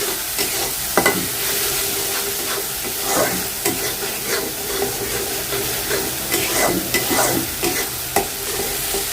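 Spice masala with green chillies frying and being stirred in a pan, a continuous close sizzle with repeated scraping strokes of a spoon throughout, no talking.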